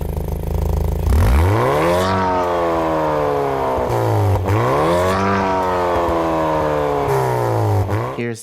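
Hyundai Kona N with a Borla Attack T304 stainless steel catback exhaust in normal mode: a loud, close engine revving repeatedly, rising through the gears with brief dips at each shift, raspy and steady throughout.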